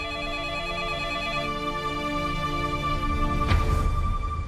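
A telephone rings continuously with a steady electronic tone, moderately faint indoors, with a brief clatter partway through and no talk over it.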